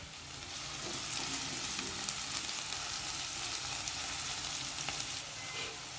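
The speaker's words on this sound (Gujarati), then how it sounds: "હવે આપણે બધું સરસ રીતે સાતળી લઈએ." Spring onion, chili, garlic and ginger sauté in a hot pan for dry Manchurian, giving a steady, fairly loud sizzle and crackle throughout with no speech.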